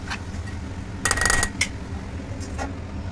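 A metal lid set onto a pot of cooking chicken, heard as a bright clattering ring followed by a couple of lighter clinks, close and alone.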